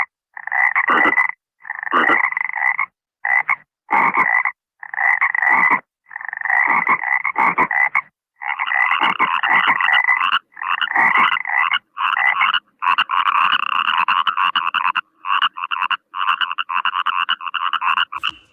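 Frogs croak in loud, rapid bursts, one chorus after another with short pauses between, close and continuous.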